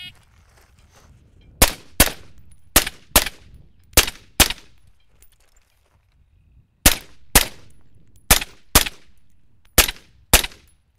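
A tactical rifleman fires about twelve rifle shots at close range during a timed special ops drill, mostly in quick pairs with short pauses between groups, each shot a loud sharp crack with a brief decay.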